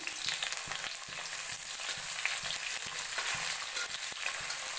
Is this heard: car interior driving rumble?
no